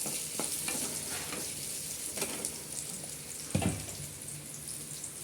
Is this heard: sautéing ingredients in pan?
yes